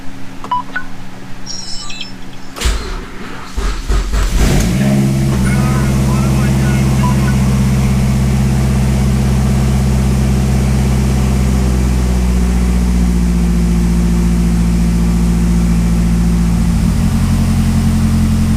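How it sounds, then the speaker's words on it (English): A Mazda RX8 rotary engine cranks with a few sharp bursts, catches and then runs loud and steady at close range for the rest of the recording. "It starts right up. In fact, we'll give it a rip right now."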